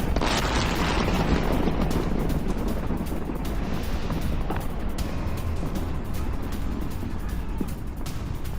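Explosions from strikes on Iran near Tahrui village outside the southern city of Sirik, a heavy continuous rumble and roar with dense low booming, loud and distant, buffeted by wind noise.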